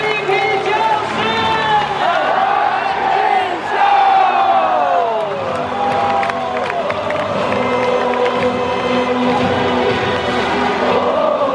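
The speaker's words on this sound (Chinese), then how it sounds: "让我们来掌声欢迎今天的 MVP" Stadium crowd at a Lamigo baseball game cheering and shouting for the MVP, a loud, sustained roar with whistles, under an announcer's voice over the PA.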